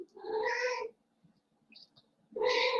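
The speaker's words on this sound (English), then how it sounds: "You may be distracted by the meowing of cats" Two loud, drawn-out cat meows close up, separated by a quiet gap with a few faint chirps.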